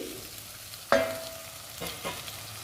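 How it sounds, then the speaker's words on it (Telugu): Ginger garlic paste with cumin and coriander powder fries in a pan for a brinjal and egg tamarind curry. A sharp utensil clank is followed by a soft sizzle and a couple of stirring scrapes, without speech. "అల్లం వెల్లుల్లి పేస్టు, జీలకర్ర ధనియాల పొడి బాగా వేయించిన తర్వాత చింతపండు రసం పోసుకోవాలండి"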